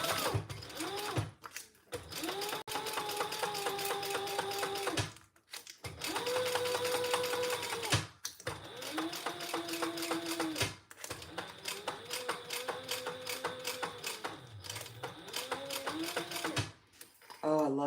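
Sewing machine top stitching fabric in long steady runs with short pauses between, loud and close, with a voice talking over it at times.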